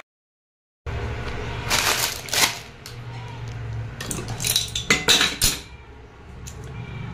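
Dishes, pots and utensils clatter and clink in a home kitchen while being washed, with bursts of metallic knocks and running rinse sounds, close and fairly loud.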